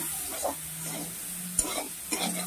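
Food stirred in a cooking pan as water and turmeric go in, a soft steady sizzle running throughout with a few short scraping stirs and clinks near the middle and end.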